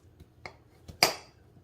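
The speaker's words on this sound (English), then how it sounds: "I'm actually going to go ahead and cut these slices in halves" A knife cuts seedless cucumber slices in half on a board, making a few soft, quick taps that end in one sharper clack, close and quiet.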